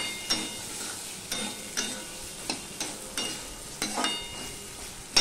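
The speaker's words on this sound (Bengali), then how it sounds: "মিশিয়ে নিয়ে আমি 2 মিনিটের মতন কষিয়ে নেব" Mankochu masala with tomato and ginger is sautéed in a pan. A steady frying hiss is punctuated by about nine rhythmic spatula scrapes and knocks, close up and with no talking.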